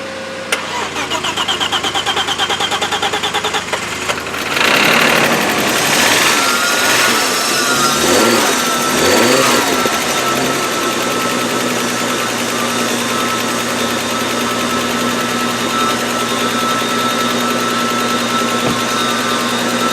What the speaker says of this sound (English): I'm going to have to fire up this quattro to fire up that quattro.